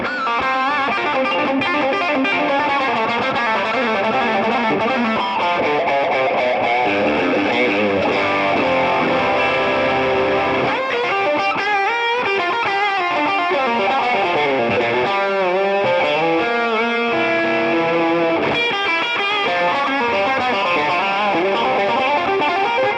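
Fender Custom Shop Stratocaster in heavy relic finish, played on its bridge pickup through a high-gain distorted tone: loud, saturated riffs with ringing held chords and choppy bursts, no talk.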